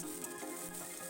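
Ginger-garlic paste and onions frying in oil in a pan, a soft steady sizzle and crackle, close and fairly quiet, heard alone without talking.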